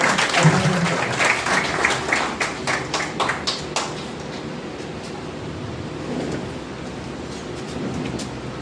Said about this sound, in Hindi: एक बार सर का जोरदार तालियों से स्वागत करेंगे।